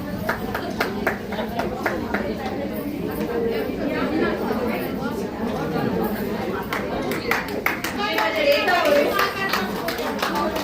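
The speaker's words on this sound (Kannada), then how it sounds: "ಜೋರಾದ ಚಪ್ಪಾಳೆ ಪ್ಲೀಸ್, ಎನ್ಕರೇಜ್ ಮಾಡಬೇಕಾದ್ರು" Audience applause and cheering at a women's association's 25th anniversary prize-giving, steady clapping mixed with loud crowd chatter throughout, swelling slightly near the end.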